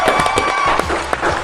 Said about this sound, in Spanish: Un aplauso para Monche.